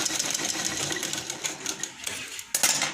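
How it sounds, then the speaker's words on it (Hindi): Sewing machine stitching a lined blouse, a steady close mechanical whir of rapid needle strokes running continuously, with a short pause before it starts again. "ये वाली सिलाई मैंने अभी चलाई है।"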